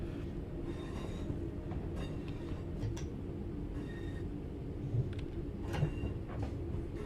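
A train runs round the corner towards Redditch terminal station, heard from inside the driver's cab: a constant low rumble of wheels and motor with occasional clicks and faint squeals, steady and moderately quiet throughout.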